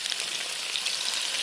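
Mushrooms fry in hot oil with a steady, close hiss and fine crackle that runs evenly throughout, with no voices.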